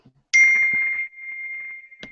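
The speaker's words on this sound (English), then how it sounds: "Whose phone is that? I have no idea. I keep hearing it too." A phone notification ding goes off in a workshop room: one bright chime that rings out and slowly fades, then a short click-like tap about two seconds later.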